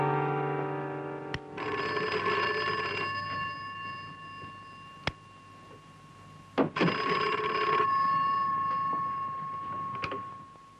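An old-style telephone bell rings in bursts: a few long trilling rings separated by pauses, with some clicks and knocks nearby in a quiet room.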